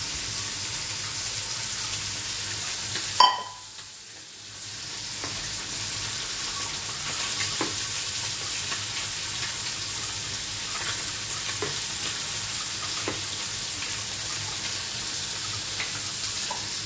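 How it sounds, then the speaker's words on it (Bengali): Fish curry cooking in a pan, a steady frying sizzle with a loud clack of a spoon or spatula near the start, then continuous bubbling hiss and faint scrapes as it is stirred and turned. "এবার একটু নেড়ে উল্টো পাল্টে দিচ্ছি"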